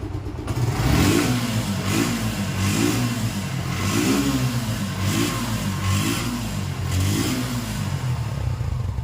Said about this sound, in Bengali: এ বাইকটা আপনাদেরকে আমি স্টার্ট করে সাউন্ডও শোনাবো